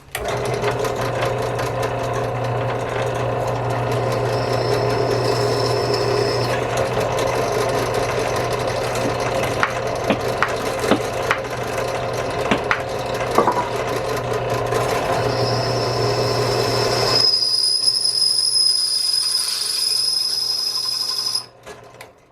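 A drill runs steadily, boring a hole through a metal saw blade with cutting oil, its motor holding a constant hum with small ticks and scrapes before it cuts off near the end, leaving faint tones.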